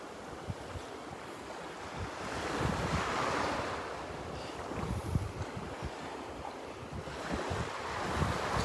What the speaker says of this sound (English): That tide's coming in fast though.